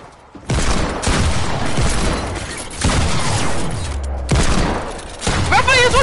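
Bursts of rapid gunfire and booming shots in a video game tournament match, several loud volleys in quick succession with brief gaps between them and a closing electronic warble.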